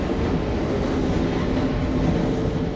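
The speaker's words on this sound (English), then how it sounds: "as you can hear, there's a train going by." A train in the video game Half-Life 2 rumbles past continuously, a dense, steady roar with faint clatter and no voices over it.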